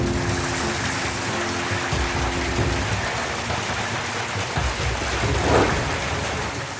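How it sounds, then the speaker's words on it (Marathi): Steady, heavy rain with hail and strong wind roars without a break, a dense wash of noise with a few louder gusts and spatters but no voices. "वादळी वाऱ्यासह गारांचा पाऊस पडला"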